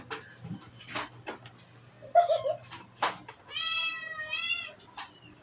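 A cat meows in a drawn-out, wavering cry near the end, preceded by scattered clatter and a brief squeaky sound, with a low hum underneath.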